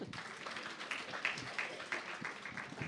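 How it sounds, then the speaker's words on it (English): An audience at Kabafest 2018, a book festival, gives a short round of applause, a dense, steady patter of clapping hands with a few louder peaks throughout. "round of applause, please"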